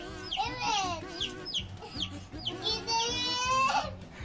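Baby chicks peep in a rapid series of high, thin calls, some drawn out, close and fairly soft, with background voices in a home setting.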